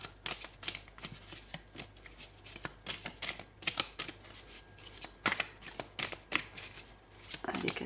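Tarot cards are shuffled close up in a run of rapid riffling bursts and soft slaps, irregular and brisk, with no speech over them.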